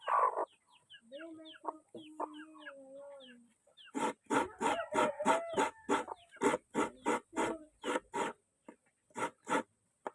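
Chickens cluck and squawk close by, with a run of quick, rhythmic clucks and a few rising calls, and a low voice murmuring early on.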